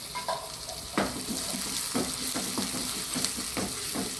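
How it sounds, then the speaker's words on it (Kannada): Moringa chicken frying in ghee in a pan, a steady close sizzle broken by repeated stirring scrapes and clacks roughly every half second to second. "ಇದು ಈಗ ಬ್ರೌನ್ ಕಲರ್ಗೆ ಬರಬೇಕು, ಅಷ್ಟು ತನಕ ಇದನ್ನು ಫ್ರೈ ಮಾಡಿಕೊಳ್ಳೋಣ."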